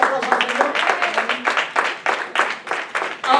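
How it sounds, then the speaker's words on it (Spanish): A church congregation claps in a strong, steady rhythmic beat during a service, roughly five or six claps a second, close and loud, with voices mixed in. "Yo quisiera darle la aplauso al Señor."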